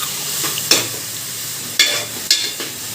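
Food frying in a pan as turmeric is stirred in, a steady sizzle with three or four distinct scraping stirs of the spoon, close and clear with no talking.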